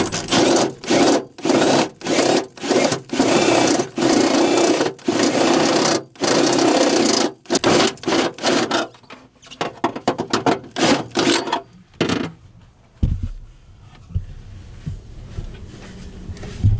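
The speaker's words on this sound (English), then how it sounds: "we're gonna go ahead and punch this little piece of steel right here and put a grommet through it" A small piece of steel being punched through for a cable grommet near a car's passenger rear wheel well, with a rapid run of loud, repeated mechanical strokes that thins out into scattered, fainter knocks and then dies away.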